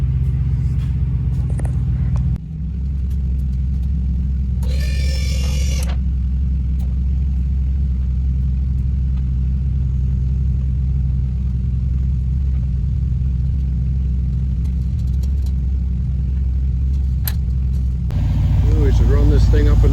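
A car with side exhaust cutouts, not driven for a couple of months, rumbles steadily at a low idle for the whole stretch, loud and close, with brief bursts of other noise and voices talking over it.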